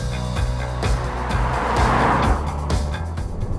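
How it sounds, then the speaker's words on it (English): Engine of a 2022 Toyota Corolla Cross with a CVT strains loudly under hard acceleration, a continuous droning wail layered with road noise and faint rhythmic thumps, steady from start to finish. "The engine is cacophonously wailing to the heavens as it thrusts itself skyward"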